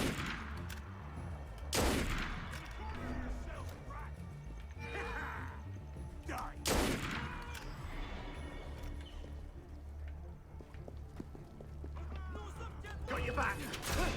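Gunfire rings out in the game Assassin's Creed Unity, a few sharp shots and bursts mixed with horse whinnies and hoofbeats, with players talking over the action.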